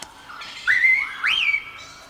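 Two bright whistled notes ring out in a radio dramatisation of Charlie and the Chocolate Factory, each a short rising then held tone over a faint hiss, clear and near, with quiet pauses around them.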